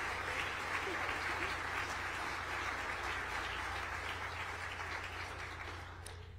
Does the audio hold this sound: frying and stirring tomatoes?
no